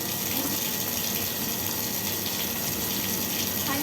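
Flowing river water: a steady, loud, broadband rush with no breaks or changes, heard close up and on its own.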